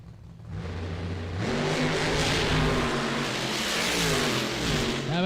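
A Pro Drag Racing car launches down the strip at GALOT Motorsports Park, its engine building from a low rumble into a loud, sustained high-revving roar that holds steady to the end.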